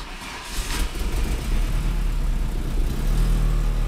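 A freshly tuned VW Pointer car engine runs steadily, heard close from inside the car as a loud, low rumble that settles into a constant idle with no voices.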